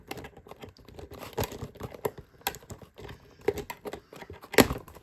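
Jurassic World Survival Wild Roar Ceratosaurus toy packaging is cut open, giving close, quiet bursts of snipping, crinkling plastic and tearing cardboard in an irregular rhythm.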